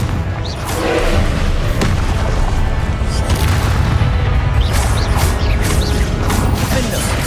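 Explosions from the Confringo spell in Hogwarts Legacy: a dense, loud, continuous rumble of booms and crashes with rattling mechanical debris, close and sustained throughout.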